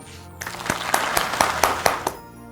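Short, rhythmic clapping from an audience at a Christmas program welcoming a bishop. About half a dozen distinct claps land in quick succession and then stop.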